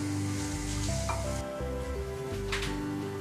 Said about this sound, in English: we just move it around the pan until it starts to cook